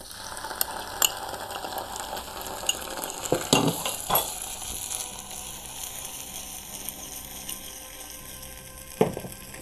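Browning onions with freshly added garlic fry and are stirred in a pan for sarson ka saag, a steady close sizzle broken by scraping utensil strokes and a few sharp clinks.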